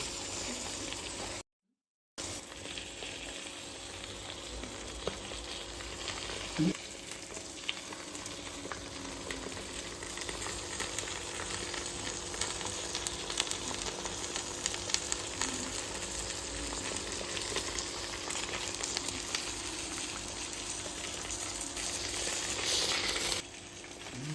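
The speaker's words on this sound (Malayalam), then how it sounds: "നമ്മുടെ ഗ്രേവിയൊക്കെ തിളച്ചിട്ടുണ്ട് നമ്മുടെ വരാൽ നമ്മൾ ഗ്രേവി കോരി ഒഴിക്കുവാണ്" Varal fish cooking in a pan while boiling gravy is spooned over it, giving a continuous close sizzle and bubbling hiss that runs throughout with faint scrapes, interrupted by one brief dropout near the start.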